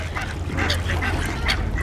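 Ducks at a pond being fed by hand, quacking and honking continuously and loudly at close range, with repeated overlapping calls forming a busy, jostling chorus.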